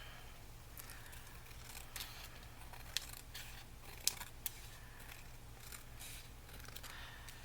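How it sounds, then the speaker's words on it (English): Scissors trim paper for a handmade envelope journal in a few quiet, sharp snips spread across a faint, steady background. "Let's trim this down with the scissors"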